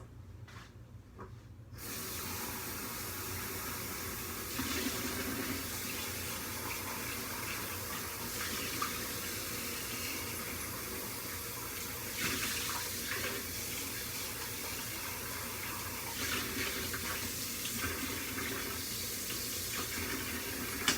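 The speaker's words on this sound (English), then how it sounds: "let me rinse this out really fast" A tap runs steadily while a mini chocolate mold is rinsed under it, a constant close splashing hiss of water into a sink that starts after a brief quiet moment and continues unbroken.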